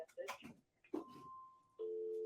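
A business phone line rings through to a recorded voicemail greeting for a horse racing stable, heard faintly with a brief ringing burst and spoken greeting fragments ending in a steady tone.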